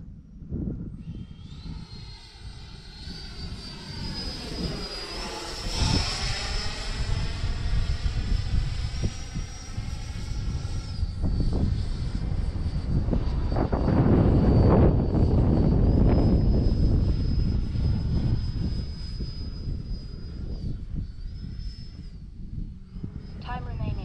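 An X-Fly Sirius RC model jet flies steadily overhead, its engine a continuous whine that rises and falls as it passes, with someone talking over it at intervals.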